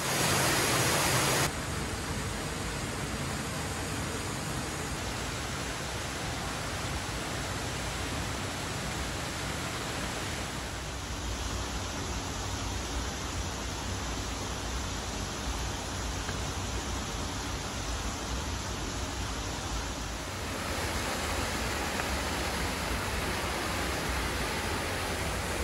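Akame Falls, a waterfall split into a larger and a smaller cascade, roars as a constant dense rush of falling water that shifts slightly in tone along the way, with no talking.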